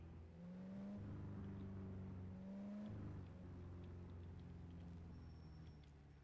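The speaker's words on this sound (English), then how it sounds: "Engine start." Car engine idling and revving in the Driving Game Simulator video game: a steady low hum that rises in pitch through several throttle pushes, continuous and close, with no talking.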